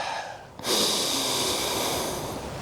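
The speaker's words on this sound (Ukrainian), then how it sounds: "з шиплячим диханням вдих" A sharp hissing inhalation drawn through the mouth during a calm breathing exercise, starting abruptly and held loud and close for about two seconds before easing slightly.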